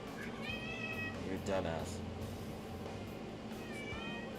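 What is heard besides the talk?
cat meowing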